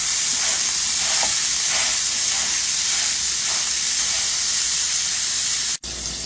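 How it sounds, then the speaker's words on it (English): One pound of ground beef browning in a pan, giving off a constant loud sizzle and hiss that runs unbroken, briefly dipping near the end. "I have 1 pound of ground beef that I'm going to brown up"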